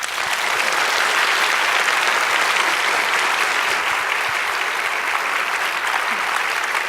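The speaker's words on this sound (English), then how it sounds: "let's give her a big round of applause for a most excellent talk" An audience applauds at the end of an academic talk on political geometry, steady dense clapping filling the room for the whole stretch without letting up.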